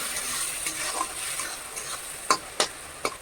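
Fried rice with ground black pepper being stirred in a pan, a steady soft sizzle with a few sharp spatula scrapes and taps near the end, close and moderately quiet, no talking.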